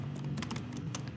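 Quick, close keystrokes on a computer keyboard tap out a short run of clicks over a steady background hum.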